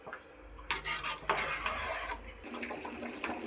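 Rice is stirred in a cooking pot for bagara rice, with close scraping and clinking of a utensil against the pot over a soft sizzle, in several quick strokes.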